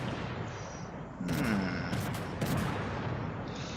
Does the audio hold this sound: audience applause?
no